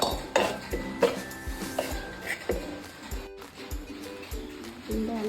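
A spoon stirs dumpling mixture in a metal pot, giving close, irregular clinks and scraping knocks against the pot's sides, with a voice heard faintly in the background.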